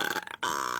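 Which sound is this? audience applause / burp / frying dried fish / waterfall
burp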